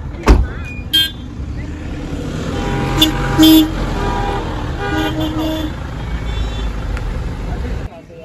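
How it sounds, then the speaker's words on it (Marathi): Busy road traffic near Bhimashankar temple, engines rumbling continuously and several car horns honking at intervals, some short toots and a longer blast, fairly close. "हे बघा पूर्ण ट्रॅफिक आहे, शेवटपर्यंत गाड्या आहेत।"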